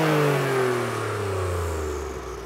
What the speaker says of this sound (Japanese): レボリューション GR ヤリス